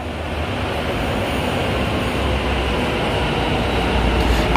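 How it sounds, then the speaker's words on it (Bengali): A Kolkata metro train arriving at Karunamoyee station, a loud, continuous low rumble and roar that holds steady throughout. "এখন আমাদের মেট্রো এসেও গেছে শিয়ালদায় যাওয়ার জন্য"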